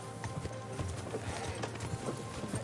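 Horse hooves clip-clopping in steady, repeated steps in the medieval game Kingdom Come Deliverance 2, close and fairly loud over a constant ambient bed, with a faint whinny-like sound mixed in.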